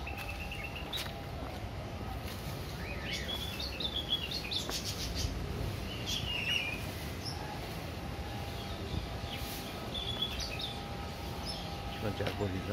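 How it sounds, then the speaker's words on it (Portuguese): Birds chirping in a leafy, tree-lined area during an outdoor stroll, scattered faint high tweets over a low rumbling background. "Pássaro."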